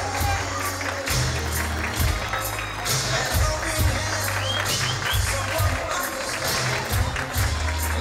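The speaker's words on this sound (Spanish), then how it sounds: "Vamos a darles un fuerte aplauso, que se escuche bonito" Crowd applause with some cheering fills a quinceañera celebration as guests welcome the parents, a steady wash of clapping with voices talking over it throughout.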